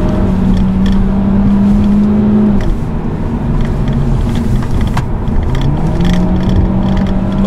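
Hyundai i30 N Line with the 1.6 turbo engine driven hard on a winding road with stability control off, a loud close engine drone that holds, dips as the revs fall, then climbs again, with no talk.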